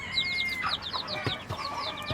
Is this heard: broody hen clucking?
yes